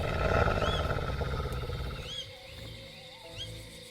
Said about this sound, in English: It sounded like the growl of a wolf.